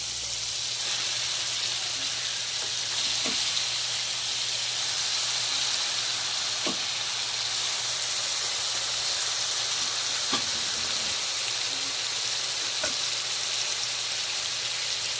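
Squid sizzles steadily in a hot pan for adobong pusit, a dense continuous frying hiss with occasional small pops and clicks, close and even throughout.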